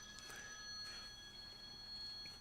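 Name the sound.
phone ringing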